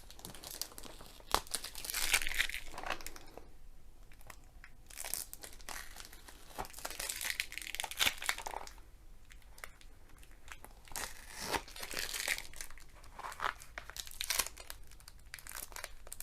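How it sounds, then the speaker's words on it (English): Sellotape is peeled off a plastic-wrapped diamond painting package, giving close, faint crinkling and tearing with irregular rustles of wrapping throughout. "I need to take this tape off first"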